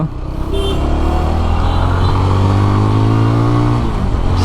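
Motorcycles revving in a traffic jam during a weekend group ride, a loud, sustained engine drone with rising pitch held close to the microphone throughout.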